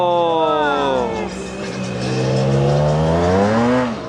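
A race car engine revs up and down in rising and falling sweeps, loud and close, with people's voices mixed in.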